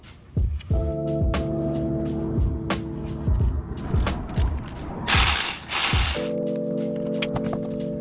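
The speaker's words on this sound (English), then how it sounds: "This will give us the room we need to get a socket and extension onto the nut." Socket ratchet clicking in short bursts while loosening a bolt on a Lexus GX470 front control arm, several quick ratcheting runs spaced through the clip, with a brief hissing burst near the end and a low mechanical hum.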